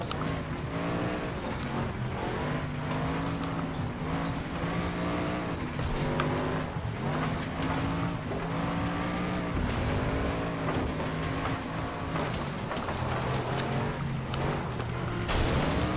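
Cars race in Flatout 2 in a steady, loud engine drone with shifting revs and tire noise across the whole stretch, close up and continuous, with no clear impact standing out.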